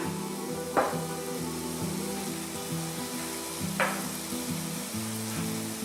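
Garlic, rice and salt frying in oil in a pan give a steady, close sizzle, broken by a couple of sharp spoon taps against the pan, with soft music playing low beneath.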